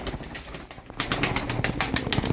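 Pet pigeons flapping their wings and cooing close by, a quieter opening followed by a louder stretch of rapid wingbeats and soft calls.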